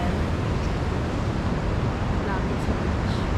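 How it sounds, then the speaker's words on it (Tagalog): Strong ocean surf on the beach at Baler, Aurora, a steady broadband wash of breaking waves with gusty wind noise, continuous and close throughout. "Lakas ang alon guys."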